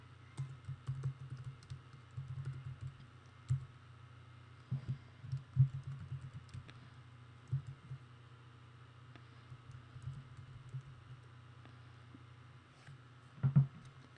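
Typing on a computer keyboard while entering a username and composing a discussion post, with steady irregular key clicks and a few louder taps running throughout, close and alone.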